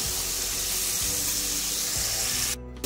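Potato pieces with a little salt frying in hot oil for a Bengali vegetarian pumpkin curry, giving a continuous loud sizzle with a few soft low knocks from the pan before cutting off.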